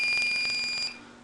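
A building fire alarm sounds a loud, shrill electronic buzzing tone with rapid pulsing, then cuts off abruptly near the end, leaving a faint hum behind.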